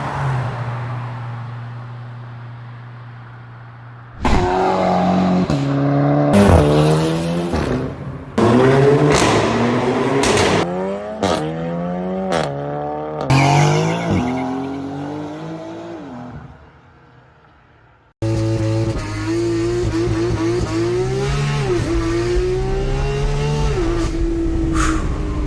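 Dual-clutch automatic car making hard, quick launches: loud engine revs climb repeatedly in stepped gear shifts, each burst cut short, followed by another aggressive full-throttle acceleration pulling hard through fast upshifts.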